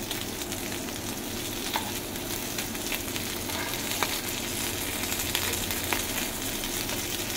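Mackerel (bangda) fish frying in a pan, giving a continuous dense sizzle with a few small pops and crackles, steady and close, no voices.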